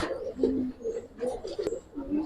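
Gribaz silver-colored pigeons coo softly and repeatedly at close range, with low murmuring voices and a faint click in the background.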